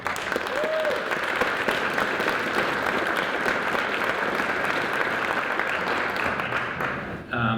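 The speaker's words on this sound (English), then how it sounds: "I'd like to give them a round of applause as well" Audience applause for municipal employees at a 2016 State of the City address in Grande Prairie, Alberta, a steady, dense roar of clapping that holds evenly for several seconds before dropping off sharply at the end.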